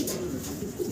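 Blue bar pigeons coo close by, a low, soft, throaty burble that is brief and alone.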